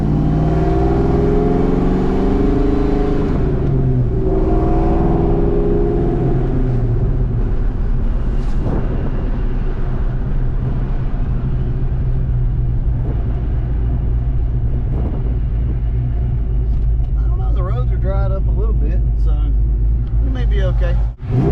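A Ford Mustang Foxbody rolls into third-gear acceleration on a wet road, its engine rumbling loud and close with rising revs and a steady roar that falters toward the end.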